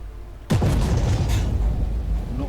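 A single tank cannon shot in Armoured Warfare, firing at an M1 tank: sudden loud close blast after a short quiet moment, followed by a long rumbling, crackling decay.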